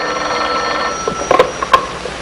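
A telephone ringing indoors in an old sitcom scene, a few short bell-like rings breaking through a low background hum.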